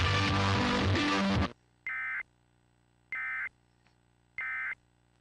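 Emergency Alert System attention tones: three identical steady electronic tone bursts, evenly spaced and loud, following a burst of dense broadcast audio at the start, with no talk over them.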